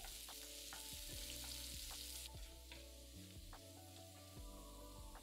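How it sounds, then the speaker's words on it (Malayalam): Three dried red chillies and four lengthwise-sliced garlic cloves fry in coconut oil, a steady close sizzle and crackle with occasional stirring taps and a faint tonal background. "4 വെളുത്തുള്ളിയിൽ നീളത്തിൽ അരിഞ്ഞത് വിട്ട് അല്പം മൂപ്പിക്കുക."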